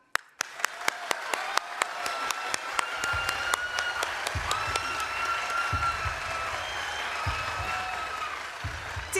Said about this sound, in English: I want everyone to clap. Okay. Really loudly.